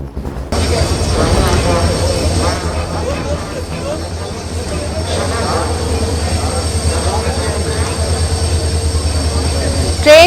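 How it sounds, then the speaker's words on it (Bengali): Haldibari–Bamanhat express passenger train running on the railway in Jalpaiguri: a steady, loud rumble of wheels and carriages with a high tonal whine throughout, continuous for about ten seconds, with voices mixed in. "সেই ট্রেন চলাচল এদিন থেকে শুরু হলো।"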